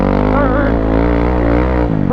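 Kawasaki KLX300R dirt bike engine revving hard through first, second and third gears, a loud, close, rising buzz with harmonic sweeps climbing and dropping at each shift, with a brief dip near the end.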